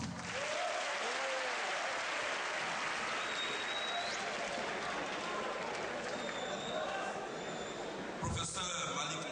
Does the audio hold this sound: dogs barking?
no